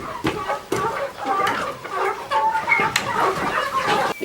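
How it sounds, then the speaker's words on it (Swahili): Chickens clucking on a smallholding farm, with repeated short calls and scattered bird sounds in a busy, fairly close barnyard, with no talk. "Baada ya kuvuna nikaanza kufuga kuku."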